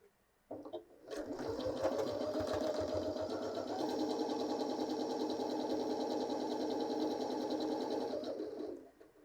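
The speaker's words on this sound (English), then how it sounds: "I want you to run the machine all the way down until you're at the bottom of the fabric" Janome 6700P sewing machine stitching down a length of fabric, starting with a click and then running in one steady, close, even burst of about eight seconds.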